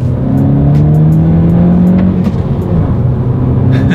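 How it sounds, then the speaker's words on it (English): A 2019 Honda Civic Si accelerating hard from second gear, its engine note rising steadily, loud and close from inside the car, then a brief dip as the gear shifts. "now let's do a quick little acceleration, test out the clutch feel a little bit, see how it shifts"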